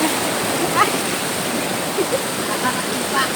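A waterfall gives a steady broadband rush of falling water at close range, with faint voices now and then over the constant roar.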